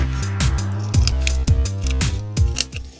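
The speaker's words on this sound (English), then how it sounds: "cut a big hole in this shoe" Scissors cut a hole in a shoe, making a steady rhythm of loud, crunchy snips close up, about five cuts in quick succession with no talk.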